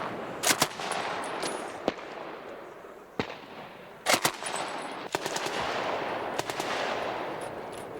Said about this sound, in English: The men are only firing blanks, but their surprise has worked.